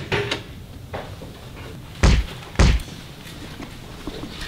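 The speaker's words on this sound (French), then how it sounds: "Ouvrez la porte." A heavy door of a forced strongroom in a bank vault is worked open, giving two loud, close thuds a moment apart, followed by faint knocks in a quiet room.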